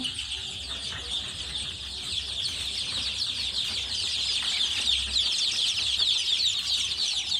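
Many young chicks of hill breeds cheep continuously after beak trimming, a dense high chirping chorus that stays steady and fairly loud throughout, with faint low rumbling underneath.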